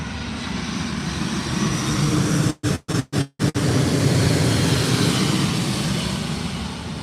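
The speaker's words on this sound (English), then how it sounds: "They're going to the air base. That's the Army, Robin. That's the Canadian military. That's the Globemaster." A Canadian military Boeing C-17 Globemaster flies over toward an air base, a loud continuous jet roar with a few brief dropouts in the middle, no voices heard.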